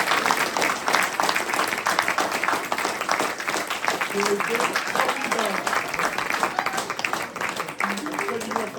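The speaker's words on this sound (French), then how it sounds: "Maintenant, des gros applaudissements pour nos jeunes." Loud, dense applause from an audience at a debate, honouring the young participants, sustained throughout with steady clapping and crowd voices mixed in.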